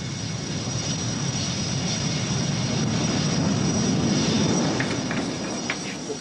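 Steady, loud drone of an aircraft engine, likely a military twin-seat training jet in 1986, holding constant with no breaks and no talk.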